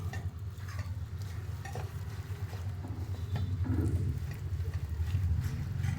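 Ginger, garlic, green chili, mint and coriander paste is stirred in a pan for crispy chicken fry, giving a quiet, muffled sizzle with soft scraping strokes close by, and no voices.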